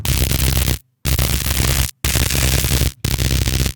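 Synthesized electric static made in the Vital synth: loud harsh crackling buzz in bursts of about a second, separated by brief silent gaps.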